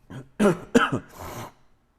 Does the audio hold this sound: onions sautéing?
no